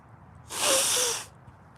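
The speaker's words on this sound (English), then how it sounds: "I got to blow my nose." A single forceful nose blow, a breathy burst lasting under a second, close and fairly loud against near silence.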